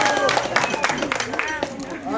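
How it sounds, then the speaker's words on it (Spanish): Applause for the godparents at a large Peruvian family celebration in Pisco, Ica, dense and continuous clapping from a crowd with voices and chatter mixed in throughout. "Fuerte el aplauso, por favor,"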